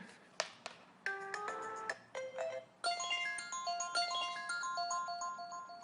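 A tinny electronic ringtone melody plays from an iPhone 6S with water in its speaker, in short repeating phrases, sounding distorted and muffled, with no voices.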